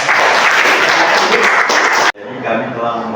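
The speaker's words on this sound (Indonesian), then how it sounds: "Boleh tepuk tangan untuk kelompok ini." A class applauds a presenting group, with dense clapping for about two seconds before it cuts off abruptly and a voice begins speaking.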